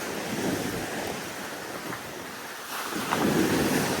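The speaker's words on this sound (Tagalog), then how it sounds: "Maalon." Ocean waves wash against a sandy beachfront lot, a continuous broad surf roar with gusty wind buffeting the microphone and a swell building louder toward the end, no talking.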